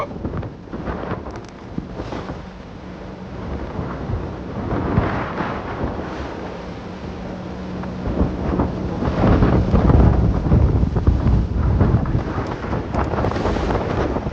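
Strong wind of up to 24 knots at sea on a sailing yacht leaving port, a steady loud roar buffeting the microphone with rushing water and waves that swell louder toward the end, no voices.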